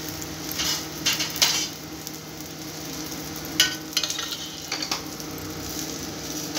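Onion paratha frying in mustard oil on a hot griddle, a steady soft sizzle with occasional scraping and clinks of a utensil against the pan, close and continuous.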